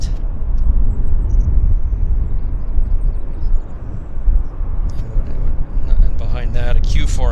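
An American Airlines airliner from Los Angeles comes in to land on runway 26 at Vancouver Airport, a loud, steady jet roar rolling on throughout while someone talks over it.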